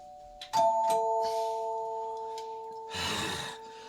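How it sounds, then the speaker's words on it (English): A two-tone doorbell chime rings clearly, followed by a breathy rushing sound near the end; fairly quiet overall. "if anybody rings the doorbell, turn them away at the door"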